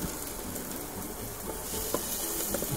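Corned beef hash sizzles and crackles steadily in a frying pan inside a campervan, a close, continuous fry with faint clinks of stirring and no talking.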